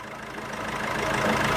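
A Nissan Navara D40 pickup's diesel engine idles with a rough, steady rumble that grows slightly louder over a brief moment.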